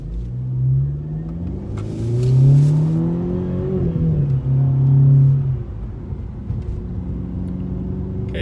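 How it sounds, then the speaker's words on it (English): A Mercedes C250 with an upgraded air intake tube pulls away from a stoplight, its engine heard from inside the car revving up through rising tones, easing off, then climbing again before settling into a steady rumble. "when it goes green, let's see what it can do."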